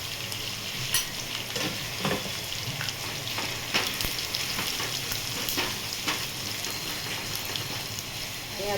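Cumin and mustard seeds sizzle and crackle in hot oil in a home kitchen, a steady dense hiss with scattered sharp pops and spatters throughout, close and continuous with no talking.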